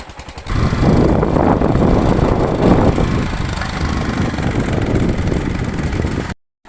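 A motorcycle engine idles while warming up outdoors, a steady close chugging rumble running without a break for several seconds before cutting off abruptly at the end.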